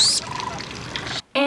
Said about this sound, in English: Now, wood ducks have kind of an interesting call.